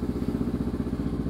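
A motorcycle engine runs close up with a steady, pulsing throb, revving briefly in an even rhythmic chug with no voices over it.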